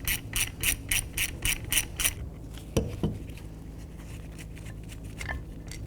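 Brake caliper bolts being removed on a 2007-2013 Acura MDX: a quick run of evenly spaced ratchet clicks, then a couple of sharp metallic knocks and softer scattered tool clinks close by.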